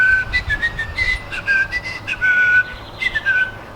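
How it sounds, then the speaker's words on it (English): A person whistles a meandering, improvised tune in short melodic phrases, close and clear over a low background rumble. "that's my whistling improv."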